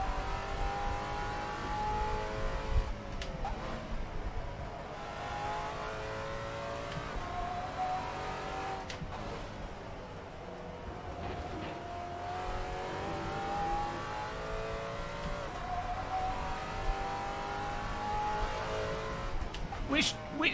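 Car engine in Assetto Corsa revs and whines through shifting pitch during a drift, with occasional tire noise and thumps, running continuously under someone talking.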